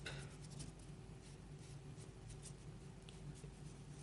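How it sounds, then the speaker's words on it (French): Pencil lines rubbed out with an eraser on paper, a close, steady scratchy scrubbing made of short repeated strokes that continue throughout. "on va gommer les traits de l'intérieur"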